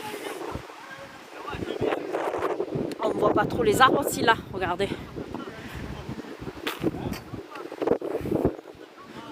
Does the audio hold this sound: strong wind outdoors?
yes